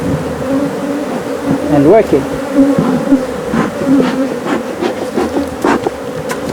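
Dense honeybee buzzing at a hive in Botswana, a steady drone with rising and falling pitch sweeps as bees fly close past, with brief talk underneath.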